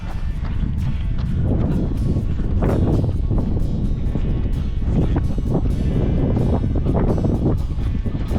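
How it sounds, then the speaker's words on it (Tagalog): Loud, strong wind on a Taif trail run pounding against the microphone in a constant heavy roar, with rhythmic gusty thumps throughout. "Ang lakas ng hangin ah."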